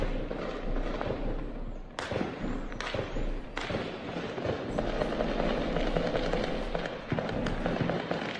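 Gunfire from an armed clash in a city in Rio de Janeiro state sounds as sharp, distant cracks and bursts, with a few strong reports standing out against a constant urban background.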